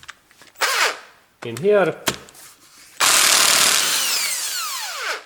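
An impact driver running a Torx bolt into an engine block cylinder, with loud whirring bursts and a sustained, sweeping mechanical drone after brief speech at the start.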